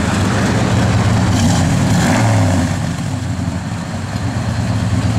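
A 1969 Dodge Dart Swinger's 340 V8 idles nearby with a loud, deep, steady rumble that eases slightly in level partway through.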